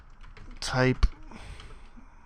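Code is typed on a computer keyboard in a few quick, close key clicks, with a brief spoken word just before.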